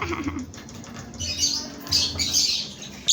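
Parrot-like birds squawking in short harsh bursts at moderate distance, with fluttering and scuffling in between and a sharper squawk at the end.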